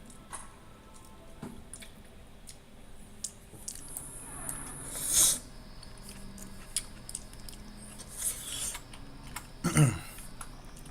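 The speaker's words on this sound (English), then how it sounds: "Sorry for the slurping noises, but I'm eating." Wet, squishy chewing and slurping from someone eating while playing Roblox, with a few louder mouthy smacks near the mic and faint low game sounds underneath.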